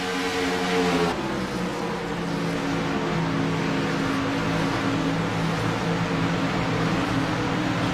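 Race cars roar into turn one at Charlotte, a loud, continuous blend of engines with the pitch dropping slightly early on, then a sustained droning pack.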